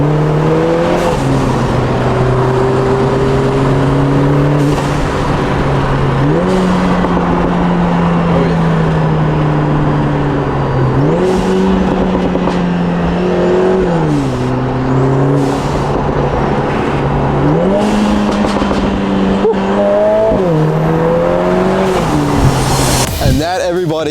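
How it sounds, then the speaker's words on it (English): A Lotus Emira four-cylinder fitted with a valved sport exhaust drives hard, its loud exhaust note climbing through the revs and dropping at each gear change, repeating over several pulls. "this exhaust just transformed the experience of this Lotus Emira"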